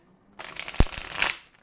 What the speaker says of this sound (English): I will give it 2 quick shuffles and we'll split the deck.